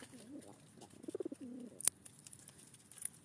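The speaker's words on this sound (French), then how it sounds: "Alors pour le moment, il n'y a que des pigeons." Pigeons coo softly in a few short, rounded bursts, faint and close, with a sharp click partway through and quiet background otherwise.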